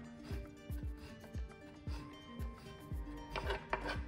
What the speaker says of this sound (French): On enlève les petits pépins et on va faire des petites tranches fines.